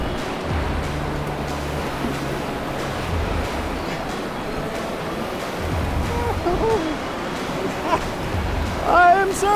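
Rushing river whitewater surges around a Sea Eagle 380x inflatable kayak riding a wave on North Carolina's Nantahala River, a steady wash of water noise under occasional voices.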